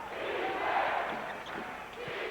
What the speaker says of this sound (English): Crowd wants defense.